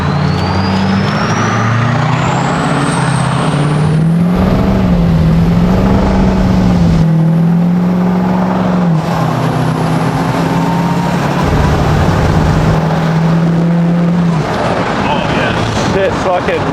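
A 6.0L Powerstroke diesel truck fitted with 205 injectors and a turbo is driven on the road, loud cabin engine drone rising and falling with shifts and a high turbo whistle, with people talking over it.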